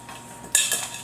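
Vegetables dropped onto a foil-lined baking sheet, a quiet tap followed by a few crinkling, clattering contacts in a brief moment, nearby with no talk.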